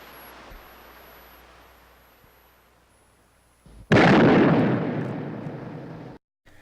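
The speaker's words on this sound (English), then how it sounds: "as the gunshot rings out" A sudden loud blast cuts in after a quiet stretch, its broad burst slowly fading out before stopping abruptly.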